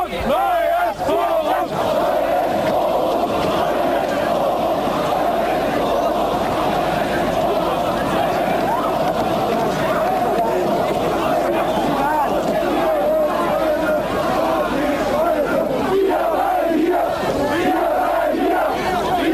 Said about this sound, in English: Chanting crowds attract even more citizens.